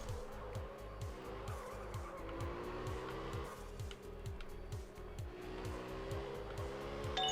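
A drifting car in the video game Absolute Drift: Zen Edition whines through repeated rising and falling engine revs as it slides, a steady tire squeal running underneath, loud and continuous, with no talk.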